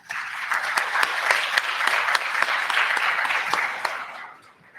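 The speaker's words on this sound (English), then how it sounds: "a huge round of applause for these guys, please" An audience gives a huge round of applause at a scholarship awards event, a steady dense wash of clapping that holds for several seconds before tapering off near the end.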